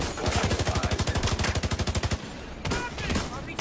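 Rapid machine-gun bursts in a video game, a loud, close, evenly spaced volley lasting about two seconds, then a pause and a shorter burst.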